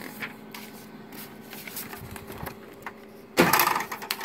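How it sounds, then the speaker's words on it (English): A Konica Minolta Bizhub C224e copier's document feeder starts with a sudden loud burst of mechanical whirring and paper-feed clatter after soft ticks and a low steady hum from the machine. "I'm going to go ahead and test the document feeder"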